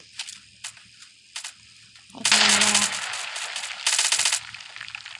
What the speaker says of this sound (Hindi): फायरिंग हो रही है, ये सुनो रे फायरिंग